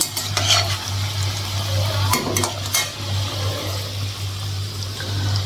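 Bora fritters frying in a pan: steady close oil sizzle over a low hum, broken by a few sharp utensil clicks and taps against the pan.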